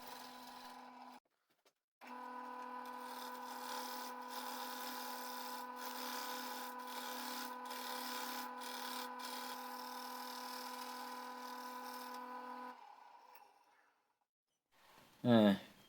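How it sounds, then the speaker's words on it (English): A wood lathe spins a piece of somewhat rotten wood as the tool cuts a tenon, a steady humming drone with scraping texture that breaks off briefly, runs for about ten seconds, then stops before a short voice. "I'm forming a tenon so that I can hold the piece safely in the chuck"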